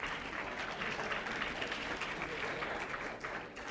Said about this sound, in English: a final round of applause for our last presenters